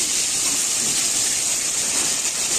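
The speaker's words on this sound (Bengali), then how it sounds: "এখানে ফুলকপিটাকে হালকা করে ভাপিয়ে নিতে হবে।" Cauliflower steams in a pot while cooking bhog khichuri, giving a continuous, even steamy hiss that stays loud and unbroken from start to finish.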